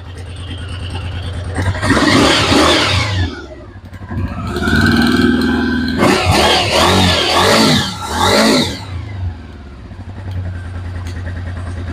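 A Honda VFR 750 V4 motorcycle engine, running after five years of sitting, idles and revs up loudly in several strong bursts, with a rumbling idle between them.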